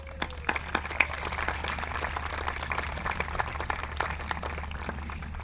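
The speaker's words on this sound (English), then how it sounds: "So hand claps for the organizers" An audience at a school sports awards event claps for the organizers, a steady wash of many hands under loud echoing room hum, with a few sharper claps standing out near the start.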